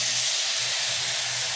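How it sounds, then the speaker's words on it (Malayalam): Milk poured into a hot pan of sautéed carrots for carrot payasam gives a loud, continuous steamy hiss and sizzle, brief and close. "നമുക്ക് അതിലേക്ക് പാൽ ഒഴിച്ച് കൊടുക്കാം."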